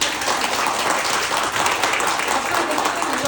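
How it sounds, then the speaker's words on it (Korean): A seminar audience gives dense, sustained applause, many hands clapping at once with crowd murmur mixed in, steady and fairly loud throughout. "박수 한번 부탁드립니다."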